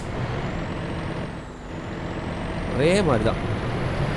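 A Volvo truck in Euro Truck Simulator 2 gives a steady low engine rumble, with a sharp air-brake hiss near the end while someone talks over it.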